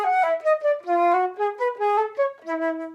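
A flute plays an etude melody (Donjon No. 5) in the lower octave, a clear run of sustained breathy tones with gentle articulations between notes, close and solo with no talking.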